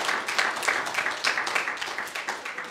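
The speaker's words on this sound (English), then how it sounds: "give the Lord a big round of applause this morning." A worship service congregation claps in a loose, uneven patter of individual hand claps, moderately close, lasting under three seconds.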